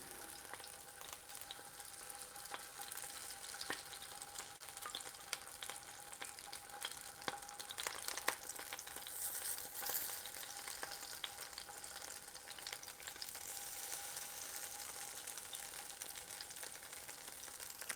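Tofu pieces frying in oil in a pan: a dense, steady crackling sizzle that holds close and even throughout, with occasional sharper pops and no voices.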